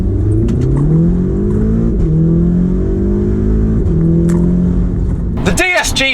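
A tuned 400 bhp Audi S3 with a DSG gearbox revs hard through rising, dropping engine pulls, then lets off into a loud burst of crackling pops, close and aggressive.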